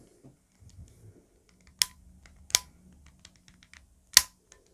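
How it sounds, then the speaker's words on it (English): Tension dial on a GAN XS speed cube being turned, three sharp, close, isolated clicks spaced roughly a second apart over faint handling rustle, with no talking. "You heard that, yeah, that big click."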